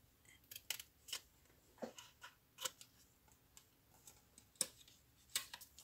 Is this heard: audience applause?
no